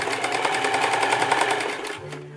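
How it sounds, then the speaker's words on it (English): A sewing machine stitches in the ditch on a T-shirt quilt, a rapid even rhythmic clatter close up that runs steadily then slows and stops near the end. "when you stitch in the ditch, sometimes you miss"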